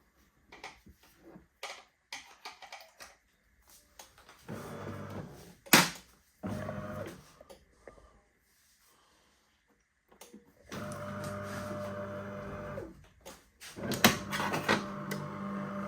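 A DeLonghi Magnifica coffee machine switches on, giving scattered clicks and knocks followed by intermittent bursts of mechanical whirring and humming as it starts up, with quiet gaps between.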